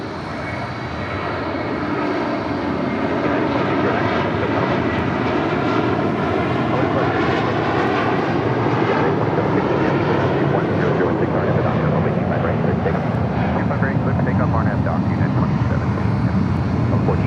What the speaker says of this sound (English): Next departure, United Airlines Flight 2609 heading to Boston and a 29-year-old